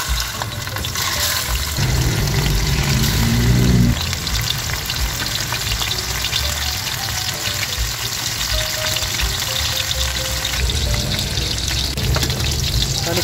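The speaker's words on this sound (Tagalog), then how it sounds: "Mainit na guys yung ating mantika, kaya ilalagay na natin yung ating mga isda." Fish frying in hot oil in a pan: a loud, dense, continuous crackling sizzle throughout, with a brief surge of bubbling in the first few seconds, heard close with no talking.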